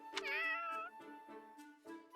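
A cat in the video game Fire Emblem Warriors: Three Hopes gives a drawn-out meow followed by several shorter, quieter mews, close and clear with no talking.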